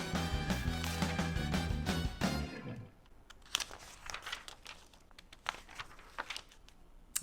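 Pages of a 2001 YM magazine turned, with music fading out at first, then light crinkling paper flicks and rustles close by.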